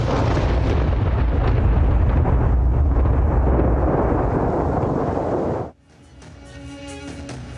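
A thunderstorm's lightning strike brings a loud, sustained rumbling roar of thunder that rolls for several seconds before cutting off abruptly into quieter background.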